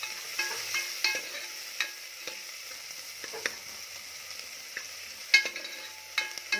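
Onion gently sautéing with a pinch of salt for Kolhapuri mutton sukka: a quiet, low sizzle broken by irregular spatula scrapes and clicks against the pan, close up, without any talking.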